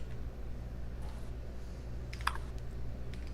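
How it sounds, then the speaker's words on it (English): Light clicks of typing on a computer keyboard, a few soft taps and a brief burst of keystrokes over a steady low room hum, with no talking. "hopefully I get a faster response by just typing this"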